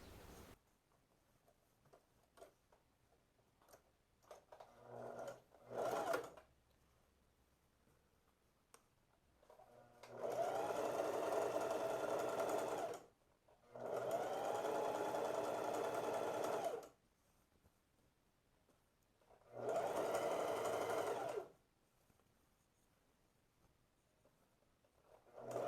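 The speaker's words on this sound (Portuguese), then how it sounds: "fazer uma costurinha bem rente a esse meio das duas costuras" A sewing machine stitches a seam on the lining of a peplum blouse, with small handling clicks and taps, then three sustained whirring runs separated by short pauses, close and clear.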